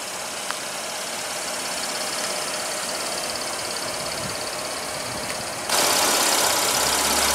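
A 2015 Buick LaCrosse with its 3.6-liter V6 idles in a steady, even drone that stays level and alone, then grows noticeably louder and brighter near the end.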